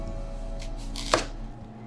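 Kitchen knife cutting into an onion, with one sharp crisp chop standing out among a few softer slicing strokes against a quiet room hum.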